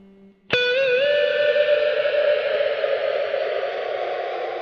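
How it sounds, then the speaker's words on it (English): A sharp synth tone struck once, then held as a bright, shimmering tail that hangs in a wide, airy reverb and slowly fades. "Beautiful airy reverb, and also the presets are impressive as well."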